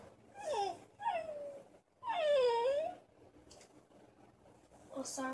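A dog whimpers and whines close by in several drawn-out, rising and falling cries, the longest in the middle, followed by quieter soft sounds.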